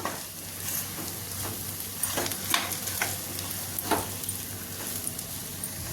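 Mutton keema frying in a pan with salt and chili powder, a steady sizzle under repeated scraping stir strokes from a spoon, close and fairly loud with no voices.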